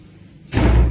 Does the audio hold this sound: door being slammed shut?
yes